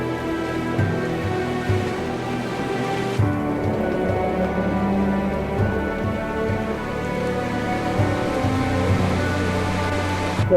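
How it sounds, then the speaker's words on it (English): Heavy rain falls in a Hawaiian jungle during a flash flood, a dense, steady roar of drops on foliage and running water, loud and unbroken with no voices. "So the rain still doesn't want to stop, and the stream is flowing pretty hard."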